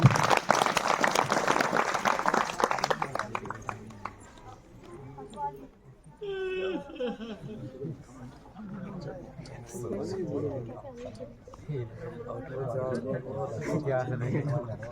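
Loud applause from a crowd at a farewell ceremony for a retiring official, a burst of clapping for about three seconds that fades as a voice begins speaking into a PA.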